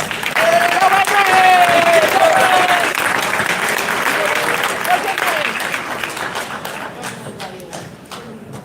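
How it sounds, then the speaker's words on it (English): Loud, sustained applause from a school audience honoring students at a high school Class of 2025 honor day ceremony, dense clapping that gradually thins and fades toward the end. "those individuals deserve a round of applause."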